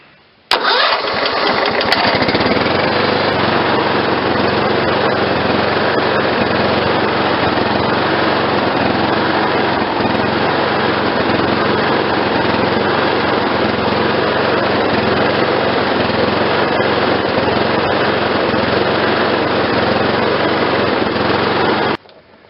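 A Kohler Command small engine starts with a short crank and then runs at a steady, loud, droning idle with no change in pitch, close up, until it cuts off at the end.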